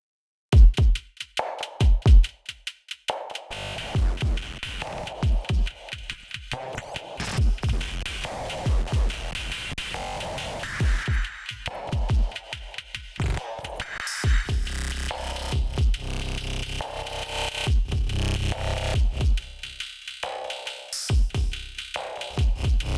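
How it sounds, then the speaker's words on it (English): Blended distortion algorithms from two modules of the Dist COLDFIRE plugin, heavily distorted synth or instrument phrases with punchy hits and buzzing sustained tones, loud and continuous with brief gaps. "Let's hear a few examples of different distortion algorithms in modules A and B being blended into one another."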